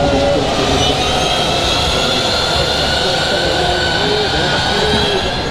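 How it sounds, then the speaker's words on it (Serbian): MotoE electric racing motorcycles at a MotoGP circuit during a race, a loud continuous whine and roar with rising and falling tones as bikes pass, with a voice talking over it. "Nadam se da me čujete od buke koju proizvodi ovi motori"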